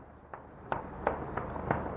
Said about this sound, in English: That's celebratory gunfire right now.